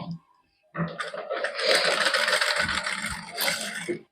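Sewing machine stitching an embroidered salwar cuff, starting after a brief quiet moment with a close, steady mechanical whirring and rattling of the needle that runs on continuously.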